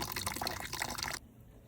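Dirty flush water drains out of a car radiator, giving a splashing, trickling liquid rush that runs steadily for about a second before cutting off abruptly, leaving quiet low residual noise.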